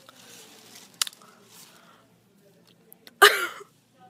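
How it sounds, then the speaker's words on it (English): One person gives a short, sharp cough near the mic after a couple of quieter small noises, in an otherwise quiet indoor setting. "I coughed."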